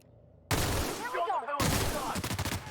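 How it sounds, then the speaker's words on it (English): Pistol fire in The Outer Worlds: after a quiet start, loud bursts of shots ring out, then a rapid string of evenly spaced shots closes the clip. "I'm gonna try this pistol out a little bit, I guess."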